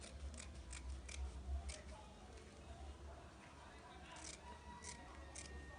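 Scissors snip through corset pattern material while the cutting follows a pattern shape, leaving a half-inch allowance; brief, quiet crisp snips come in small clusters near the start and again toward the end over a low background hum.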